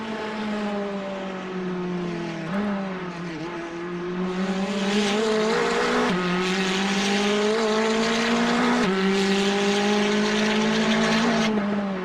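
Two McLaren race cars in Gran Turismo 4 scream past with loud, sustained high-revving engine whine, pitch dipping and climbing through gear shifts as they battle closely on track.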